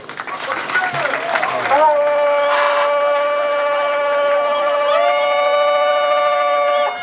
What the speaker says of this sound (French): je voudrais que nous applaudissions ces gouverneurs